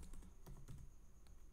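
Code being typed on a computer keyboard: a quick, irregular run of soft key clicks, faint and close, with no talking.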